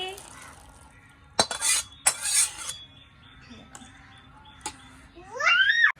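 A pot of cooked ghugni comes off the stove in a home kitchen, with a few sharp metallic clanks of the pot and utensils between quieter stretches. A voice babbles faintly near the end.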